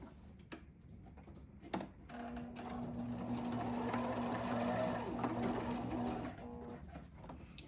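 A sewing machine stitches a tiny teddy bear, running with a close, steady mechanical whir for several seconds between brief pauses and soft clicks of handling.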